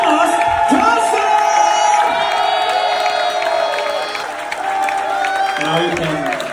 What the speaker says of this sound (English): So please give the loudest applause ever to Mr. Thomas Thompson!